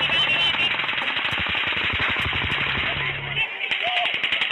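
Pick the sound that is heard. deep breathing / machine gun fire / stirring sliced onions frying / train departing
machine gun fire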